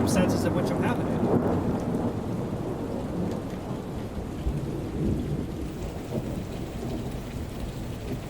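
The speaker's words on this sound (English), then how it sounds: "You hear all that thunder still going on in the background?" Thunderstorm in the storm-chasing game Outbrk, with heavy rain hissing on surfaces and a loud rolling thunder rumble that swells early and then settles into a steady downpour.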